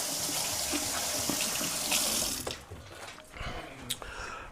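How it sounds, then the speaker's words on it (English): Running tap water splashes over hands being washed in a kitchen sink, a close, steady hiss that cuts off partway through, leaving scattered drips and light handling sounds. "wash my hands"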